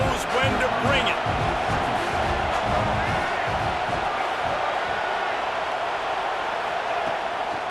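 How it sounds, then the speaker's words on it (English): Stadium crowd noise from a College Football 26 game, LSU at Florida State, a dense sustained roar of cheering that stays loud and steady throughout, with commentary talk over it. "This crowd knows when to bring it."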